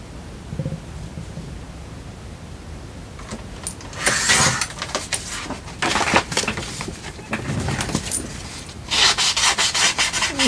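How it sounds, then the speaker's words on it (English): Paper being trimmed for a flip flop page folio, with repeated rubbing, scraping cutting strokes in bursts, close and fairly loud, and no talk. "So I'm just going to trim that."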